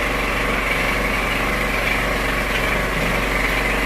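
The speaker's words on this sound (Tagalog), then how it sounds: "Isa lang ang makina pa lang ito." A single engine on a Bataan fishing boat runs steadily, a continuous droning hum with a strong low throb and buzzing overtones, close and unbroken with no talk.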